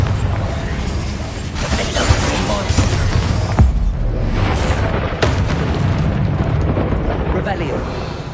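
A Confringo explosive spell in Hogwarts Legacy produces loud, dense booming blasts with crackling bursts, rolling on continuously as combat noise surges around them.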